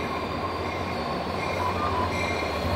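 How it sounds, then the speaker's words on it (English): A Caltrain commuter train rumbles past nearby with a steady mechanical roar and faint squealing from the wheels, with no voices over it. "here comes the inbound Caltrain"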